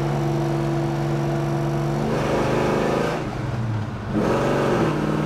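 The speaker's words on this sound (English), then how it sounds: "when you step on the throttle, you can hear the freaking exhaust." A 1969 Chevrolet Chevelle SS drives along with its exhaust droning loud and steady from a close position, the engine tone dipping briefly as it shifts before pulling strongly again.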